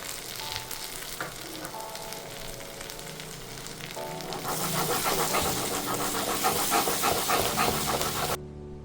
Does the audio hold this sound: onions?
yes